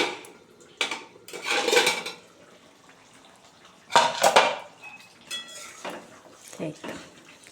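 Metal clatter of a pot lid being lifted and set down on a pot of fish curry, several sharp clanks and scrapes in bursts, close to the microphone, with quiet gaps and light kitchen handling between.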